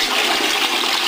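Chicken broth pours steadily into a turkey brine, a continuous loud gush of liquid with no break and no talking.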